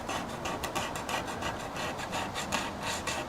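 Steel wool rubbing over the nickel frets of a Collings acoustic guitar, a steady close-up scratchy friction with quick repeated strokes and no pauses.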